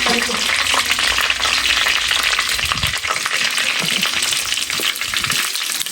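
Curry leaves splutter and crackle in hot oil in a clay pot for fish curry, a dense, loud, continuous sizzle with scattered sharp pops throughout.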